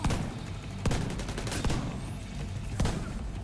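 Gunfire in The Division 2, including shotgun blasts: a few sharp loud shots about a second apart, set against a dense, continuous backdrop of combat noise.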